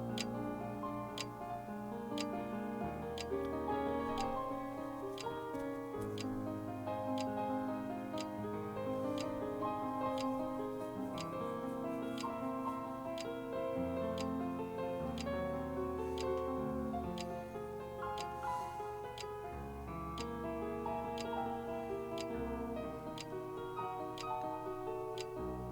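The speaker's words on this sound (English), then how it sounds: "Lulled by the ticking of the clock" Steady clock ticking at an even pace for the whole stretch, sitting faintly over a continuous soft musical bed, with no talk.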